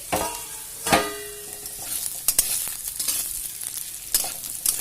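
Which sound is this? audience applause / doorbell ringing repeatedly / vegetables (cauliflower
vegetables (cauliflower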